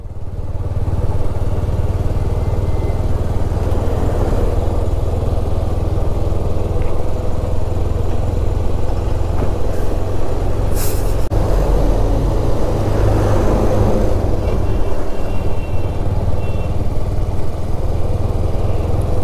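Long traffic jam on a road, with motorcycle and vehicle engines idling and rumbling steadily nearby and a horn-like burst partway through, without speech.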